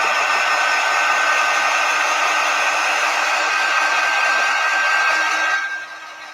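A hair dryer blows a steady, loud whoosh across an upcycled bulletin board, running continuously for several seconds before dropping in level near the end.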